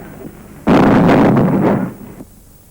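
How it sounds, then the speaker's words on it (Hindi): A bomb explosion bursts out suddenly, a heavy booming roar that holds for over a second before cutting off and fading. "ये धमाका गांधी जी की हत्या करने के लिए एक हिंदू शरणार्थी के फेंके हुए बम का था"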